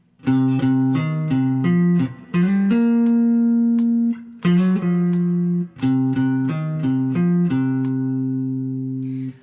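Clean electric guitar picks out a bluesy descending turnaround line of single notes and double stops, moving G down to F, ending on sustained ringing notes; close and clear, no voices.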